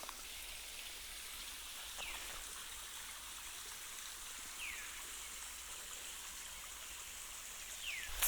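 Steady, soft rush of a forest stream flowing over rocks in the Hammersley Wild Area of Susquehannock State Forest, Pennsylvania, heard as a constant hiss with faint chirps now and then.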